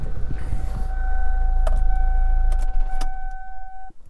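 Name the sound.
car engine running after jump start, then switched off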